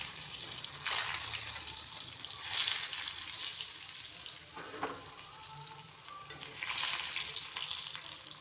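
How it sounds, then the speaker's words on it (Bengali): Potatoes frying in mustard oil in a wok, a fairly quiet ongoing sizzle that swells and fades in waves, with an occasional stirring scrape and no speech. "প্রথমেই আলুগুলো ভেজে নিচ্ছি।"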